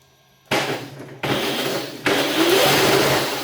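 An 80V 3000W electric motor on a Razor Drifter kart runs loud and close, its broadband whir jumping up in three distinct surges and ending in a rising whine as it spins up.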